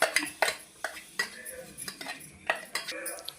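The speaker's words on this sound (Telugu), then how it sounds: "ఈ పొట్లకాయ పచ్చిమిర్చి కలిపేసుకోవటమే" A spoon stirs ground ridge gourd and green chillies into a yogurt chutney, giving quiet, irregular clinks and scrapes against the bowl at close range with no speech.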